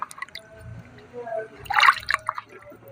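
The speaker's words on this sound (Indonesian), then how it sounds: "Kita buang airnya." Water poured off a bowl of soaked oyster mushrooms, running and splashing in a burst near the middle with drips around it, close by, with faint talk in the background.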